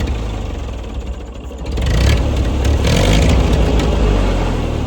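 A farm tractor engine catches and starts partway through, then keeps running at a steady, loud mid-pitched rumble close by, with no talking.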